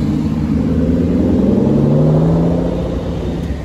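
A V12 sports car on the streets of Monaco passes close by with a loud, steady engine drone that swells and then slowly fades as it moves away.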